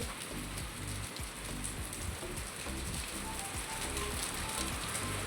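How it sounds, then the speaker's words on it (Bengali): Heavy rain mixed with small hailstones pours down after a hot day, a dense, constant roar of drops hitting surfaces with scattered sharper impacts, steady and close throughout. "এত সুন্দর বৃষ্টি আবার শিলও পড়ছে"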